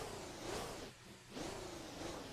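A Hummer's engine in the Motor Town driving game revs up, eases off briefly, then revs again: a steady, loud, close-up drone that rises and falls in pitch, with no other sounds.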